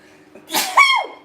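A single sharp sneeze bursts out close to the microphone in a home kitchen while pepper is used cooking manicotti, a quick inhale then a loud explosive exhale with a voiced tail.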